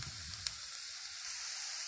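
Diced chicken fillet and chopped onion sizzle steadily in hot oil in a frying pan, a continuous close hiss with one small tap early on and no talking.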